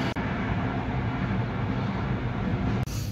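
A classic electric multiple-unit train runs along, heard as a steady low rumble and broadband roar of the moving carriage, unbroken across the stretch.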